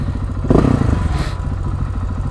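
Honda CB 1000R motorcycle passing on a road, a loud surge of engine noise building near and then fading, with some clatter and a rushing wind burst.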